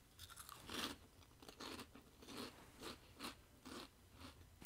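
Spicy garlic heart-shaped chips crunched in the mouth, a series of faint, close crisp bites and chews in an uneven rhythm, with no talking.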